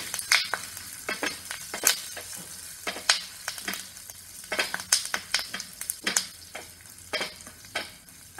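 Puliyogare tamarind rice with hing and curry leaves being stirred in a hot pan, steady sizzling under repeated sharp scrapes and clinks of a spoon against the metal, close and busy throughout with no talking.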